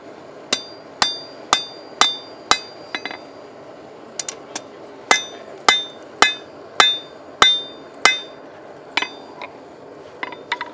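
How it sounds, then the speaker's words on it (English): A hammer forges the clip point of a skinning knife blade, striking in sharp, ringing metallic blows, close and loud. The strikes come in quick rhythmic runs separated by short pauses. "What you want to start out with is forging the clip point in."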